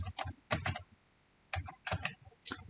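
Quick bursts of computer keyboard typing in clustered clicks separated by brief pauses, close and fairly quiet, with no talking.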